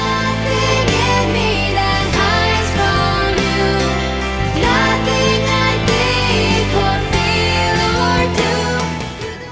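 Full-band recorded song with steady instrumentation and a sung melody in a lilting 6/8 love-song style, loud and continuous throughout with no talking.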